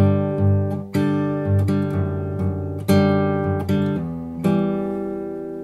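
An electric guitar plays the riff of Clairo's Blouse without the hammer-on, clean plucked notes and chords ringing out one after another in an even, unhurried rhythm, close and alone.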